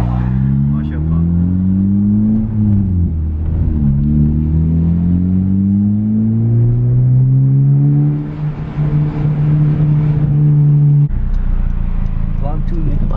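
A modified Honda Civic Si engine revs loudly and close by in a rising, falling drone, holding a steady high idle before dropping off, with people talking over it.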